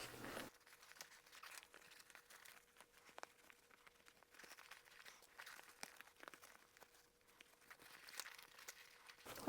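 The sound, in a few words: turning a zippered fabric gift bag right side out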